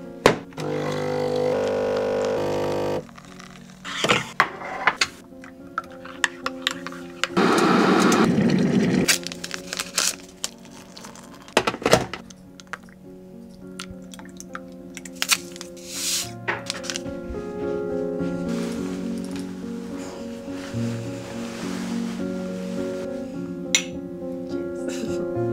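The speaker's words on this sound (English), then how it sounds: "The only chance you guys would ever get like a cool ASMR coffee shot in my video is if Brayden's drinking it and making it" Coffee being made, with a double shot pulled: scattered clinks, taps and knocks of cups and equipment, plus a short loud burst of machine noise, all fairly quiet and close by.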